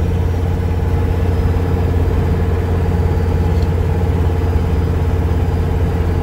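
A diesel-swapped Toyota engine running on used vegetable oil, fitted with unbalanced pistons from three different engines, idles with a steady low rumble and even mechanical chatter, heard close and constant throughout with no talking.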